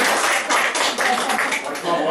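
Audience applause at a round-table panel event in Nîmes, a steady wash of many hands clapping in a room, continuous for about two seconds with slight swells and dips.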